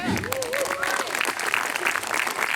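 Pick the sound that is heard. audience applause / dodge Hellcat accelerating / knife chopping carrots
audience applause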